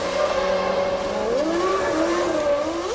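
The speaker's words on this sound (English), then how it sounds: "Schumacher unable to pass the Williams of Villeneuve. Häkkinen pits from fourth" A 1997 Formula 1 race car's engine screams steadily throughout, its pitch sliding down and then climbing again as it shifts and accelerates, loud and close with no talk.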